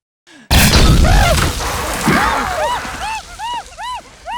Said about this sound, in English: He raised his weapon and fired a single shot.